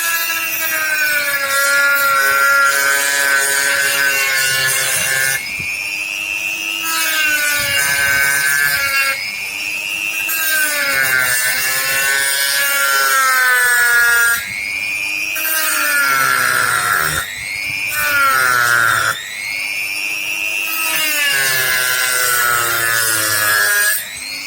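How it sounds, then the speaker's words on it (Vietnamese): A handsaw cuts along a marked line in long, rhythmic back-and-forth strokes, each with a rasping, rising-and-falling tone, close and loud with brief pauses between passes, no talk. "bây giờ mình chỉ cưa theo cái đường mình đánh dấu thôi."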